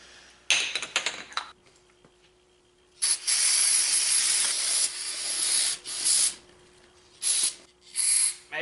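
Carburetor cleaner sprayed from an aerosol can into the jets of a go-kart carburetor, giving a short hiss burst followed by a long, loud continuous spray and several shorter bursts.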